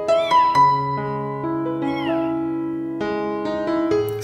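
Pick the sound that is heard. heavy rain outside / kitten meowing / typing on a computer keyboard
kitten meowing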